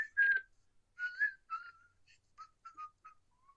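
The Creeper from the 2001 horror film Jeepers Creepers whistles a short, lilting tune, a run of clear sliding notes and brief chirps that trail off toward the end, heard alone without talk.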